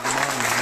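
An audience bursts into loud, dense applause at a motivational leadership talk, a brief continuous wash of clapping close by.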